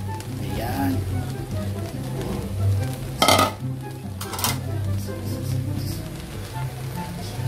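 Pancit bihon and pancit canton with vegetables stirred in a pan, a soft sizzle with scraping and a couple of sharp metallic clatters, close by, while someone talks over it.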